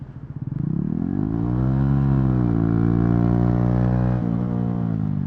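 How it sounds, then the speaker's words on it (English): A Can-Am-style SSR Razkull with an aftermarket exhaust blares loud and close, rising from idle into a sustained, steady drone with a slight dip in pitch partway through, with no talk over it. "with this aftermarket exhaust that's on here, it's stupid loud"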